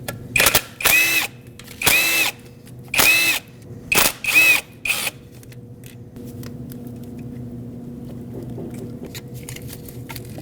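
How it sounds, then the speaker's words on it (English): Power tool with a 10mm socket removing bolts on a Lexus IS250, heard as about six short, loud whirring bursts in quick succession, then a low hum of the idle shop. "Use a 10mm socket and remove all 4 bolts"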